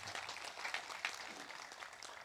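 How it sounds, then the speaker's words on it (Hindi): A crowd at a Hindu Jagaran Manch Balidan Diwas gathering in Dhamtari gives faint, thin applause, a brief scattering of claps heard from a distance. "तालियां कमजोर आप सभी की।"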